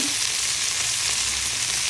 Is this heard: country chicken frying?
yes